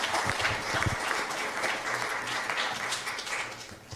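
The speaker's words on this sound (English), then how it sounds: "Please give them another round of applause." Loud, close applause from a congregation at an ISKCON temple gathering in Phoenix, dense clapping sustained across the moment and gradually easing toward the end.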